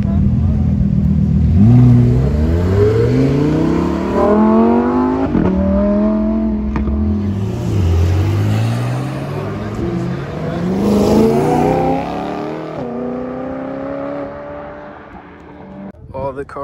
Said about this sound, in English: Look at the STO leaving right now.